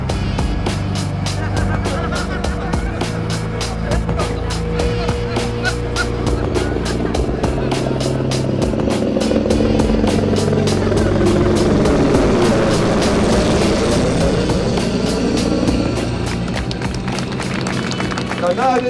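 A helicopter arriving at an outdoor Walk of Fame stone-laying event, its rhythmic rotor chop loud and steady throughout, with a crowd murmuring and a voice speaking over it.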